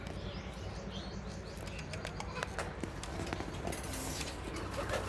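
Domestic pigeons flap their wings in a rooftop loft, a few soft irregular wing bursts close by over steady background hum, with faint bird sounds.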